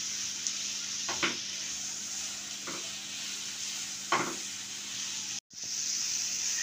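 Vegetables frying in a pan for Maggi noodles give a steady, even sizzle throughout, with a few soft stirring scrapes and one brief sharp cut near the end.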